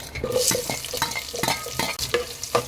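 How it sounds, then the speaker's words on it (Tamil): Sliced onion sautéing in a pan for brinjal drumstick sambar: a steady, close sizzle broken by repeated scraping strokes of a spoon stirring through the onions, with no voices. "வெங்காயத்தை நல்லா லைட்டாக வதக்கி விட்டுருங்க"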